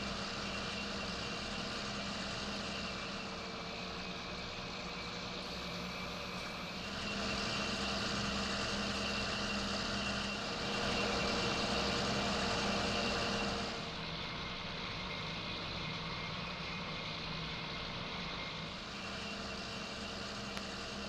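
Steady engine drone of a John Deere tractor in Farming Simulator 19, a continuous mechanical hum with a slight rise in intensity midway, heard alone without talk.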